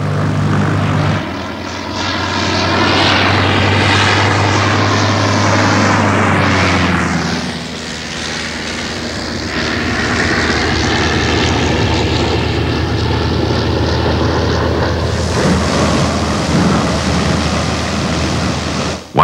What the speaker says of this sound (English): SE-5A, restored by apprentices at the Royal Aircraft Establishment at Farnborough, has had to be re-engined and now uses a 200 horsepower Wolseley Viper